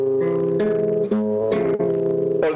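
A disliked contrasting chord set against a major one, played as several successive sustained chords with shifting tones, each held around half a second with small attacks between them.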